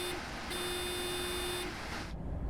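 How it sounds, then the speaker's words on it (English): A steady electronic warning tone sounds inside an ICE-T train cab in Train Sim World 5 on the Fulda–Frankfurt route, holding for about a second, pausing briefly, then continuing over the constant rumble of the moving train before cutting off. "What is this beeping?"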